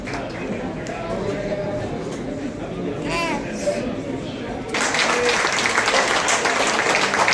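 Applause at a railway headquarters retirement function in New Delhi: crowd noise and chatter at first, then steady, denser clapping swells in the second half, with voices mixed through it.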